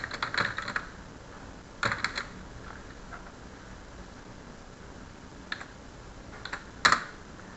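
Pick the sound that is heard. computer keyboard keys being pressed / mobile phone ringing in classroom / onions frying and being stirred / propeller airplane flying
computer keyboard keys being pressed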